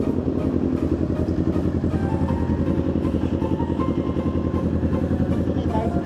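A motorcycle engine runs with a steady, throbbing, rhythmic chug at close range, loud and constant throughout the ride.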